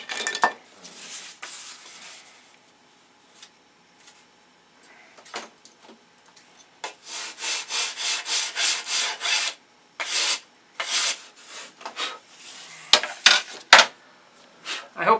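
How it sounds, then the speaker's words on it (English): Wooden wing part sanded square against a square, heard as rapid bursts of rubbing strokes, close and fairly loud, with sparse scraping at first building to dense back-and-forth sanding. "Just take the square and I just sand it square."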